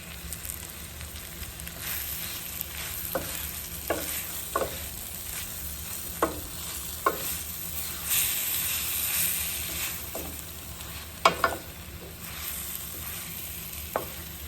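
Pumpkin being stirred into saltfish frying in a pan for a Caribbean breakfast, with steady sizzling and repeated scraping strokes of the spoon, close and clear, no talking.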